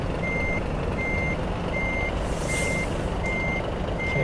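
A truck's engine runs in a steady, loud rumble while it parks. Six evenly spaced reversing beeps sound over it throughout.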